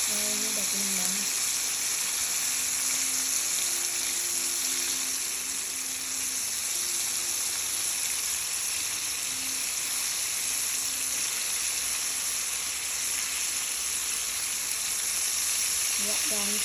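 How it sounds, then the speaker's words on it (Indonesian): Chicken thighs fry in hot oil with a steady, close, dense sizzle and crackle that runs unbroken from start to finish. "Ini paha ayam gorengnya udah menguning, jadi saya mau balik ya."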